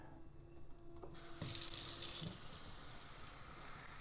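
Water runs from a tap into a neck cooling device's reservoir, a steady broadband rush starting about a second in and continuing to the end, fairly quiet and close.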